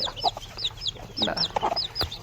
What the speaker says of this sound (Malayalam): ഒരു ചുവപ്പ് കോഴികളുണ്ട്